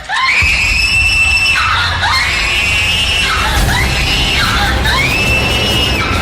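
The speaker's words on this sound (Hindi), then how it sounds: "नैना के कमरे से उनको जोर जोर से चीखने की आवाजें आई" A woman screams loudly and repeatedly, long piercing wails rising and falling several times in a row, close and harsh.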